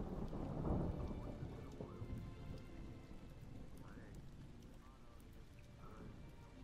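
Steady rain falls on surfaces with a low rumble of distant thunder, forming a continuous, even wash of sound at moderate loudness, with a few faint voices in the background.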